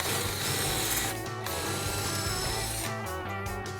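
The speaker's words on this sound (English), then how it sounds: "It's the drill." A power drill whirs loudly near the mic in sustained bursts, with a brief pause in the middle and a change in pitch toward the end.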